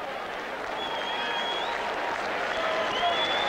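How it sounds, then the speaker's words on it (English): Tennis crowd at the 1991 US Open quarterfinal on the Flushing Meadow stadium court, a steady, moderately distant patter of applause rising slightly toward the end, with faint whistles over it. "there's the applause starting up again"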